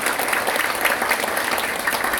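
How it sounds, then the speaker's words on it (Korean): An audience at a leaders' rally in Busan bursts into sustained applause, a dense patter of many hands clapping for a couple of seconds. "우리 박수 한번 합시다"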